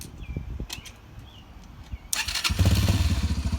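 Yamaha TTR 125 dirt bike engine cranks and fires up after a battery replacement, settling into a loud, close, steady putter following a few quiet clicks.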